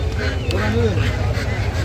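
Ducklings for sale at a busy outdoor market in Barishal quack in brief bursts close by, mixed with the hubbub and voices of the crowd.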